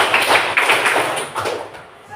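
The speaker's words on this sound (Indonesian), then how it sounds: "Masih ingat tepuk tangan ya?" Rhythmic clapping from a group of children counting claps in a classroom, close by, with light taps in a bouncing pattern and some voices mixed in.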